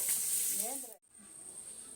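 Fish frying in hot oil over a firewood stove, giving a bright, close sizzling hiss that runs throughout. A brief voice-like murmur rises under it before a momentary dip, then the sizzle settles at a softer, steady level.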